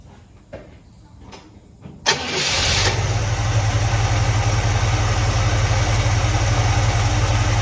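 A 1966 Chevelle Malibu engine with a freshly repaired two-barrel Rochester carburetor cranks briefly, catches with a sharp burst and settles into a loud, steady idle with the choke on, heard up close.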